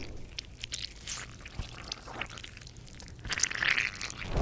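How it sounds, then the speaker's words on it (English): Designed game sound effect for an MMO rogue backstab: wet pouring and dripping liquid with squishy textures, fading and swelling softly, then building louder toward the end. "we need the sound of your life slowly draining from your body"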